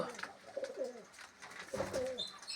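Pigeons coo close by, two rolling coo phrases with a short pause between, soft and fairly quiet, with faint background noise and no clear talk.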